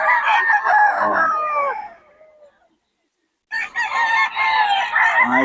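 Young roosters (stags) at Bocaue crow loudly and close by, with some clucking. One long, strained crow fades into about a second of silence before another crow bursts in.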